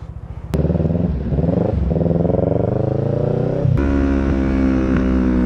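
Motorcycles on a touring ride to Pacitan pull away and accelerate, their engines droning loud and steady up close, with a throttle surge partway through as the group rides on.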